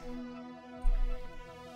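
In the game Esperon, a low electronic EMP boom bursts over sustained humming game tones, clearing bullets, then fades back into the steady drone.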